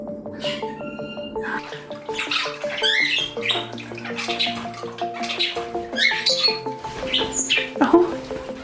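A 12-week-old cockatiel named Bubbles gives repeated squawks and chirps indoors in a bird room among other birds, close and fairly loud, with tonal whistling notes running throughout.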